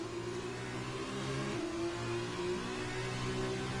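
Racing cars overtaking on the Russia circuit in an F2 racing game, a steady loud engine whine with several overlapping engine tones shifting pitch as they pass, no talk.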